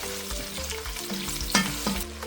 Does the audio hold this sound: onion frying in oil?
yes